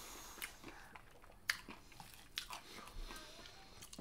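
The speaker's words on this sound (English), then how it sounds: "Oh, the juicy, big, crunchy bite." Crunchy bites and chewing of fried chicken at a Christmas dinner, several crisp crackling crunches over about four seconds, close up and fairly faint with no talking.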